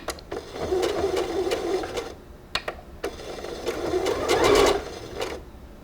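A sewing machine back stitching fabric, with short bursts of motor whirring separated by brief pauses and clicks, loud and close.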